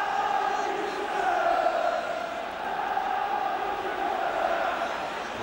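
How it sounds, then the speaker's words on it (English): Football stadium crowd at a 1984–85 UEFA Cup quarter-final between Tottenham and Real Madrid, a broad, steady roar of many voices swelling and urging the home side on, heard from a distance. "The crowd urging Tottenham to knock the ball in quickly"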